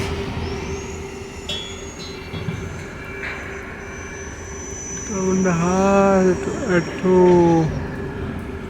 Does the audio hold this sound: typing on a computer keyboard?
no